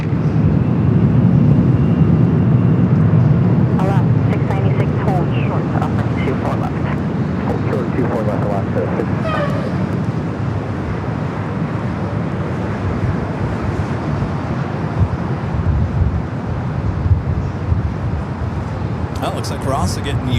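An EVA Air Boeing 777-300ER arriving at LAX from Taipei, a broad jet rumble with wind noise that is loudest at the start and then eases into a steady roar, with someone talking over it.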